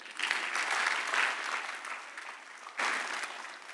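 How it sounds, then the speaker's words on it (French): A church congregation claps together in steady, close applause that swells twice and briefly dips in between. No voices are heard over the clapping. "Acclamez-vous vous-même."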